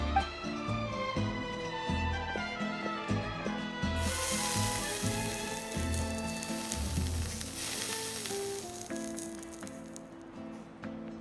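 Mushrooms searing on heated armor in Genshin Impact, a steady bright sizzle running under a layered musical score, swelling louder around the middle before settling back.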